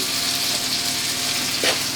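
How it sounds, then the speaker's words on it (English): Steady, hissing sizzle of breakfast frying in a pan, a constant crackling wash with a brief louder flare near the end. "I can hear it sizzling"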